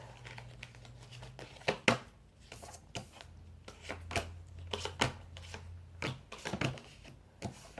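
Tarot cards are shuffled by hand close to the microphone, quiet irregular riffling and soft snapping clicks in uneven bursts, with a low hum underneath and no voices.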